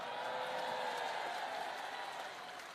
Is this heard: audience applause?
yes